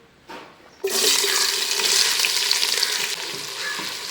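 Three sliced onions dropped into hot oil for egg biryani, a loud steady sizzle bursting in after a brief clatter and holding strong, with faint stirring scrapes.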